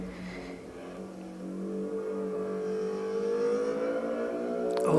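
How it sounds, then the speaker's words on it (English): Mercedes 190 engine and exhaust in Assetto Corsa Evo racing game, steady resonant drone rising gradually in pitch and loudness as the car accelerates, no talking. "Oh, listen to that engine."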